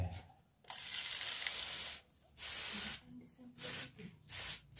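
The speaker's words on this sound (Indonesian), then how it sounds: "kita semprot dulu." A spray bottle hisses in one long burst, then several shorter spritzes follow close by, with quiet speech in the gaps, inside a swiftlet nesting house.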